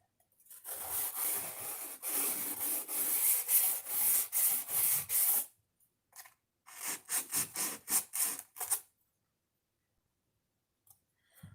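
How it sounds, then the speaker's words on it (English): Hand sanding with 220 grit sandpaper, a close rhythmic rasp of quick back-and-forth strokes in two runs separated by a short pause, ending in silence. "That's it for our 220 grit sandpaper."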